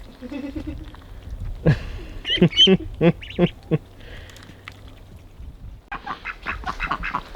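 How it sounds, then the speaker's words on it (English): Ducks quack in a run of short, nasal calls, close by, with voices talking around them before and after. "Jay, you gonna take home a duck for Christmas"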